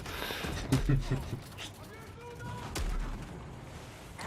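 Game gunfire with two or three sharp shotgun-like blasts, spaced apart, mixed with background game noise and people talking.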